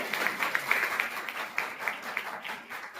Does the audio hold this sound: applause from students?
yes